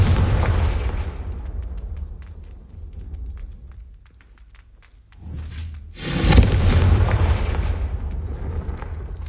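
Confringo spell explosions in the Hogwarts Legacy video game: a loud fiery boom fades away, a brief whoosh follows, then a second powerful blast bursts and keeps roaring.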